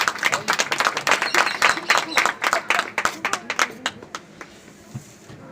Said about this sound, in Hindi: एक बार जोरदार तालियों से स्वागत करते हैं